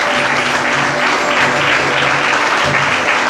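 Sustained applause from a church congregation, a thick, even roar of many hands clapping close by, steady throughout without voices on top.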